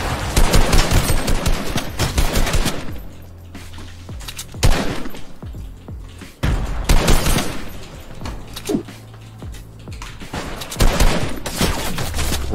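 Loud automatic gunfire from a video game comes in dense rapid bursts, with quieter gaps of lower rumble between them and a final burst near the end.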